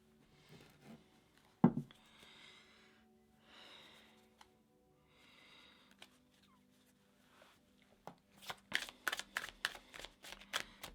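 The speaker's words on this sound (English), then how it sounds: "I'm going to shuffle the cards and ask what we need to know this week." Tarot cards being shuffled by hand, with a sharp snap, soft rubbing and sliding bursts, then a quick run of crisp riffle clicks near the end, close and quiet with no voice.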